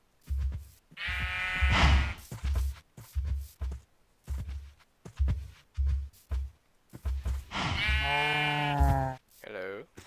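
Sheep bleat in Minecraft, with two long wavering baas standing out over a voice talking through most of the stretch.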